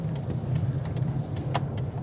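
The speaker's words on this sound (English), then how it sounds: "The car is not running on all cylinders," An idling car running rough on not all cylinders, a steady low engine drone with uneven pulsing and occasional faint clicks, close and continuous without talk.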